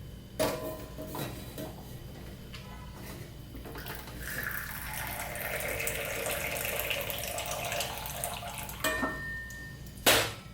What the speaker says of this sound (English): let's pop a lid off and see if I can get some coffee out of here